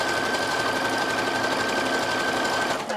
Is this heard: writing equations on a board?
no